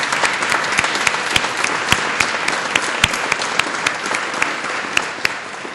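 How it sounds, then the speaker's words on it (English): An audience applauding after a talk on religious environmentalism, steady dense clapping from a crowd with scattered louder individual claps, sustained throughout. "So I want to give them a round of applause."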